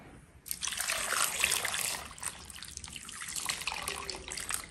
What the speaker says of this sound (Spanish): le voy a agregar agua hasta cubrirlas